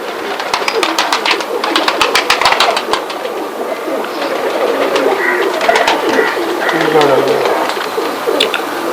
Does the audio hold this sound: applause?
no